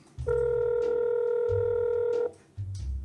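A phone number is dialed on a telephone, giving one long, steady electronic tone with short low bursts before and after it, close and clear with no talk.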